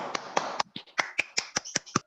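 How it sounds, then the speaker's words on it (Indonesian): A small group of students clapping in a classroom for group 1, a handful of sparse, distinct claps at an uneven pace, close and crisp against near silence, with a brief voice early on. "tepuk tangan dulu untuk kelompok 1"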